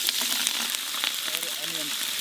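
Green chilies sizzle in hot oil in a pan on an outdoor stove, a steady bright frying hiss with brief faint voices in the background.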